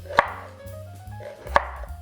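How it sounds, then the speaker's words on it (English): Two distinct knife chops on a cutting board while slicing onions into long slices, sharp isolated impacts about a second apart, close and clear over quiet background hum. "we can go ahead and slice our onions"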